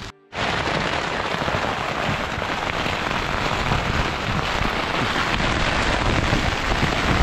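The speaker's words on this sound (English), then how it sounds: "It's raining in my tent." Heavy rain pounds a tent fabric at midnight on Angola's Morro do Moco, a dense, continuous roar, loud and close, with no voices.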